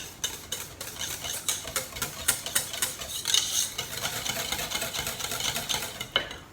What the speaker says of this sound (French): Un petit peu de piment d'Espelette et je mélange.